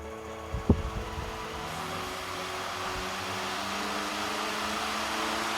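A 1950s IEW Tara 16-inch DC table fan motor spinning up from a sharp start click into a steady, rising whir that holds on alone as the fan reaches speed.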